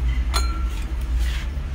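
Wine glasses clink once, a bright, clear ring near the start, with a fainter tap afterward over a low, steady background hum and no talking.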